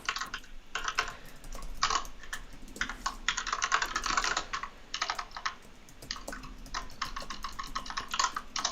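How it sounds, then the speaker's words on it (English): Rapid clacky keystrokes on a mechanical keyboard, bursts of quick clicking with short pauses, close and fairly quiet, no talking. "are you on your clacky keyboard?"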